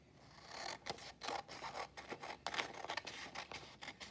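Scissors snip through origami paper, trimming the extra strip off a folded sheet to make a square; a close, steady run of crisp cuts and rustling paper with no talk.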